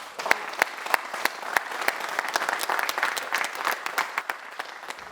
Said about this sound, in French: Et je voudrais vraiment vous applaudir.